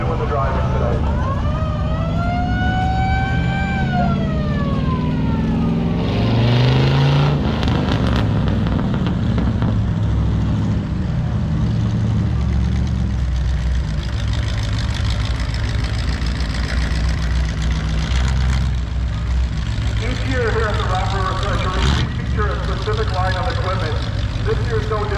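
A fire truck owned by a threshing club drives past in a threshing show parade, its engine running steadily and loudly with a siren-like rising tone early on, amid continuous crowd and vehicle noise throughout.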